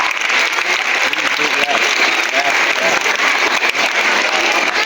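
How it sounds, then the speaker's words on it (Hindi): Parents applaud students at a school annual day celebration, producing a loud, continuous wash of clapping throughout, with a voice faintly audible underneath. "Please do clap."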